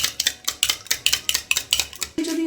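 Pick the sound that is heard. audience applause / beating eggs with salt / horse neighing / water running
beating eggs with salt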